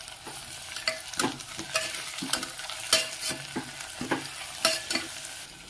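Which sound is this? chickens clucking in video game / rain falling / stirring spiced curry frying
stirring spiced curry frying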